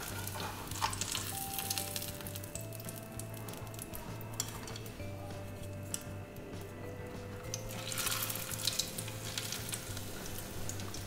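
Almond-crusted tuna searing in a pan, a continuous moderate sizzle and crackle over a low steady hum, with occasional faint clicks and no voices.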